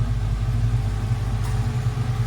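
A 1971 Chevrolet Camaro Z28 restomod with a 6.2 LS3 V8 rumbles steadily at idle, a deep low growl held evenly throughout with no revving.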